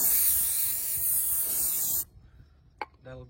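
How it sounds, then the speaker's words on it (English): A strong aerosol spray of brake parts cleaner hisses continuously for about two seconds, then stops, followed by a couple of small clicks and knocks. "I'm just going to go and spray them, give them a good cleaning."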